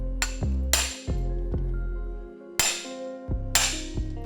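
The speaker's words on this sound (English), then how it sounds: "Get her in place and whack her with a hammer." Several sharp metallic hammer blows strike an impact screwdriver fitted with an Allen bit, loosening stripped bolts while tearing down an RM250 dirt bike engine; irregular close ringing clinks, about five strikes with a couple of lighter taps between, no talk.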